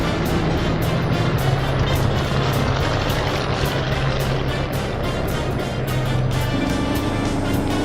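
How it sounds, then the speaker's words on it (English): The number 9 Bennett Brothers Special, a 1948 race car, pulls out onto the track with a loud, steady engine drone that holds close and constant throughout. "Connor in the number 9 Bennett Brothers Special heads out as Duke Nalen in the Novi heads in."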